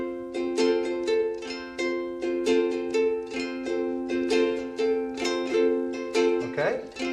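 Ukulele strummed in a down drag then up, up, down, up pattern, bright repeated chords in a steady rhythm, close and clear, playing alone.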